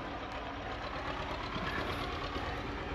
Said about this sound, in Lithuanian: Oho, koks gražus traktorius važiuoja bulvių kasti.